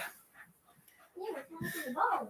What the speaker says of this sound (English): That's all we listen to is that dog bark